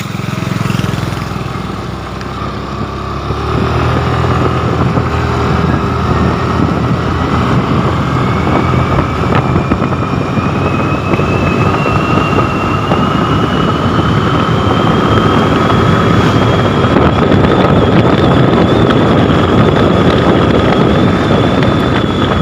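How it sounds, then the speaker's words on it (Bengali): A Suzuki Burgman scooter engine drones steadily at full throttle, its whine climbing in pitch as it gains speed, with strong wind rush over the microphone throughout. "তো বর্তমানে এটার ফুল স্পিড দিয়া দেখবো যে এটা কতক্ষণ স্পিড হাইয়েস্ট উঠে"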